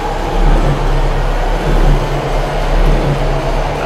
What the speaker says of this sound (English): This is a pretty fast moving train.